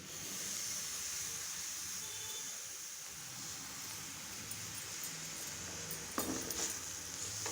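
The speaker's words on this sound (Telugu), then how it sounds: "రెండు నిమిషాలు ఇలా ఫ్రై చేసేసుకొని" Grated carrots frying in a pan with fresh coriander, a steady close hiss and sizzle that holds evenly throughout, with a brief clink near the end.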